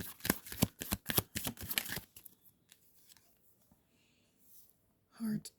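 Tarot cards are shuffled and drawn in a rapid burst of crisp flicking and riffling over the first two seconds, followed by quiet with faint soft handling and a short final shuffle.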